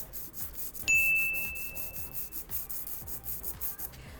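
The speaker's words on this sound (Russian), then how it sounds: "опиливаем пилкой в обе стороны" A soft nail file rubbed back and forth across a fingernail in both directions, brisk rhythmic rasping strokes, close and fairly quiet, with a sharp bright ring near the start that fades out.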